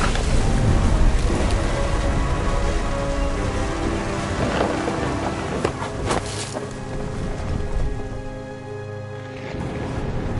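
Heavy rain hisses steadily on surfaces as thunder rolls and rumbles close by, loud and continuous with a few sharper cracks, then eases slightly toward the end.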